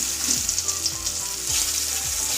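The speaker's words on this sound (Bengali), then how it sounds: "এই যে পটলের তরকারি করার আগে কটা পাকা পটল ছিল, তো এটা একটু ভেজে রাখছি" Ripe pointed gourd fries in oil with a steady, close sizzle, broken by a few soft stirring scrapes at regular intervals.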